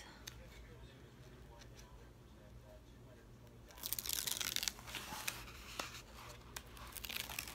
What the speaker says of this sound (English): by peeling it up and putting it down, I will straighten the canvas and get the creases out of the paper.